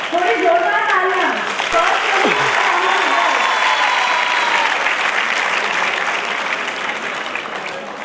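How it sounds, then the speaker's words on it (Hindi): An audience at a school commerce event bursts into loud sustained applause, a dense wash of clapping that holds steady and slowly tapers, with brief voices heard over the start. "थोड़ी जोरदार तालियां."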